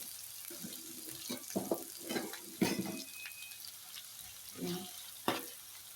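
Sliced tempeh frying in hot vegetable oil gives a soft, continuous sizzle in the background, while someone talks over it in short phrases with clinks from the pan.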